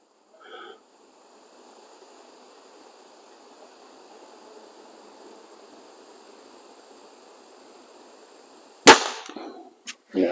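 A BSA Airsporter Stutzen RB2 air rifle fires one sharp, loud shot near the end, standing out alone after a long stretch of faint background hiss, with a couple of small clicks following.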